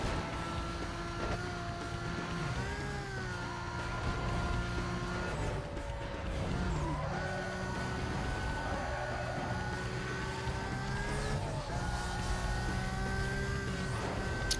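Bolide race car driving in the video game Need for Speed Most Wanted, a steady high-pitched engine whine with rising and falling pitch as gears shift, continuous and loud with music underneath.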